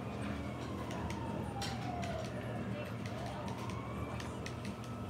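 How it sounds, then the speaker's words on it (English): Ambulance siren in the Grand Theft Auto V video game, its rising and falling wail sweeping steadily through the clip over a dense bed of game ambience and constant background noise. "Here come the paramedics"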